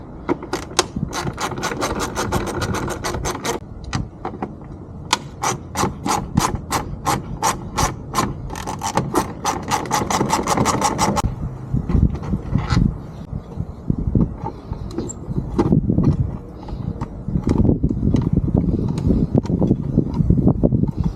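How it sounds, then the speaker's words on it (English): A ratchet removes two 10mm bolts from a Jeep thermostat cover, giving bursts of rapid, close clicking followed by duller scraping and handling noises. "I'm going to take the two 10mm bolts."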